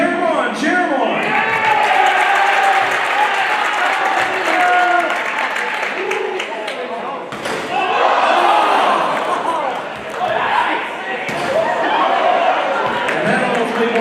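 A gym crowd at a high school boys basketball senior day game cheers and applauds loudly through a half-court shot attempt, with the roar swelling and dipping and rising again, and an announcer's voice over it.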